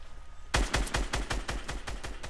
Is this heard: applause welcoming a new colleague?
no